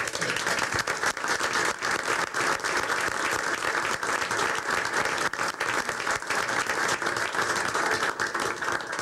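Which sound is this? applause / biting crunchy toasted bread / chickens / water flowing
applause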